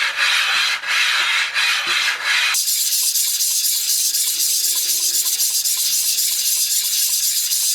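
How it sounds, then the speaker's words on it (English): Cocobolo wood rubbed flat against abrasive paper, a steady close scraping rasp with repeated back-and-forth strokes, briefly interrupted and then continuing in a smoother, quieter rhythm. "a bit more sanding required"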